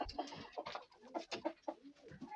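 Hens, including bantams, cluck in a backyard coop, a soft busy stream of short overlapping clucks and murmurs at moderate distance with no talking.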